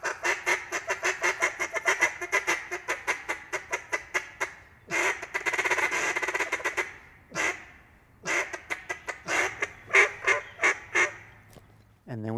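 A duck call blown while hunting ducks in flooded timber gives rapid, loud, rhythmic runs of quacks, with a sustained burst and pauses between sequences, heard close and alone.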